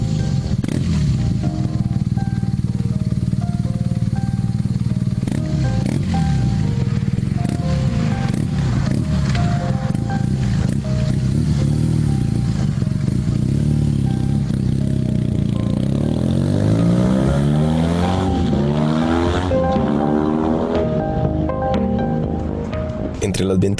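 A running boxer flat-twin motorcycle engine: a steady, loud mid-pitched drone with clattering mechanical noise, then rising revs toward the end, while a person talks over it.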